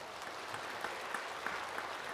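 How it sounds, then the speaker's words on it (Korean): Congregation applauding during a church sermon: a faint, diffuse wash of many hands clapping, distant and even, with a few slightly sharper claps standing out. "박수 한번 해주시면 좋겠어요"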